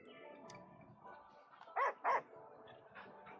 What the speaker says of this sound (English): you can in fact pet the dog